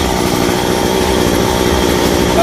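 A chainsaw roars loud and unbroken while cutting off the top of a 26-metre golden oak tree, a steady high engine whine with no pauses.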